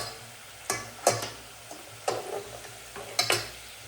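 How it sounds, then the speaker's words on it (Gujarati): A spoon stirs chilli, salt and turmeric through crisp fried potato chips in a pan, sounding as a handful of sharp scraping clatters at uneven intervals over a soft background hiss. "હવે એને આપણે કરી નાખીશું મિક્સ."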